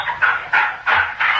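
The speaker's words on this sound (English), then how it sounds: "I like a lurcher. Clever dogs." A lurcher barks in a radio drama, four or five sharp, close barks spaced at a steady rhythm, loud and clear with no voices over them.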